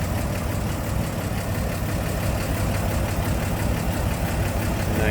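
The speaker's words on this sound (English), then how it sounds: "Nice smooth running engine." The inline six engine of a 1954 Chevrolet 3100 5-window pickup idles steadily with the hood open, a smooth continuous rumble with a light even tick and no voices.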